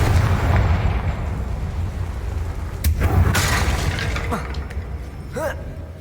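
The Confringo explosion spell in Hogwarts Legacy, a deep boom with crackling debris and a burst of bright noise, followed by a few smaller pops and impacts over game ambience, while someone talks over the action.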